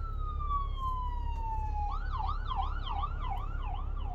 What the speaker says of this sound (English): There's a ambulance going by.